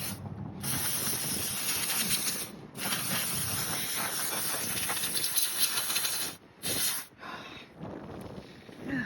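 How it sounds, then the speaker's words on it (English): Close insecticide aerosol spray hissing at cockroaches in a PS5 Slim console, in long continuous bursts broken by short pauses, with a quieter spurt at the end. "when you use that spray, they fly"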